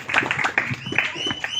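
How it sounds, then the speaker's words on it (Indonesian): Audience applause at a graduation thanksgiving ceremony for Universitas Yapis Papua graduates, a dense, steady patter of many hands clapping close by, with voices mixed into the crowd. "Kami sekali lagi kita tepuk tangan dulu."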